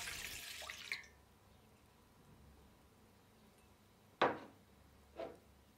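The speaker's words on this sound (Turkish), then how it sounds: "1 su bardağı ılık sütü, 1 su bardağı ılık suyu yoğurma kabına alıyorum" Warm milk and warm water are poured into a kneading bowl: a brief pouring splash at the start, then quiet, followed by two short liquid splashes later, close and faint overall.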